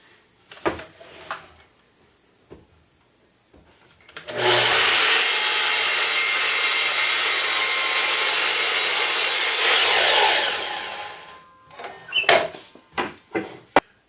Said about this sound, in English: We just need to trim our board to length now.